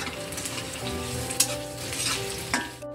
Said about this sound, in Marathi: त्याचा मसाला भाजून रेडी करूया।